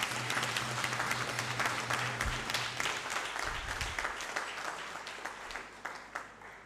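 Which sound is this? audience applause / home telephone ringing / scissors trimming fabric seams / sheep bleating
audience applause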